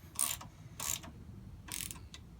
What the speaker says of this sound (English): tighten up these bolts, and that'll hold everything in place